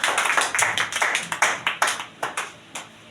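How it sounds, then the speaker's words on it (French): A congregation claps at a church service, a run of brisk, uneven handclaps close by with no talking over them. "Give a clap for the reading of God's word."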